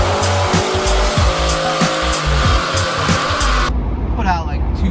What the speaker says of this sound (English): car on a dyno.